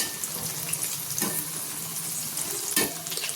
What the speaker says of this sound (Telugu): అటు ఇటు తిప్పుతూ ఇలా డీప్ ఫ్రై చేసేసుకోవాలండి